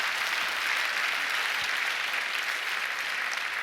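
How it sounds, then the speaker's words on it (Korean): A church congregation at a prayer meeting claps steadily together, a dense, even wash of applause filling the room from start to finish with no voices standing out. "하나님 앞에 박수 올리겠습니다."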